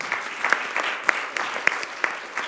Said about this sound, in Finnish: hänelle pienet aplodit